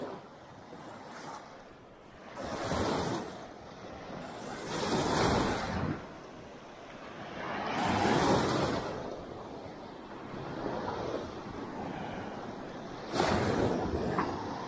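Small, gentle sea waves wash onto a Baltic beach near the Vistula Spit canal as four or five soft, rushing surges a few seconds apart, with light wind noise between them.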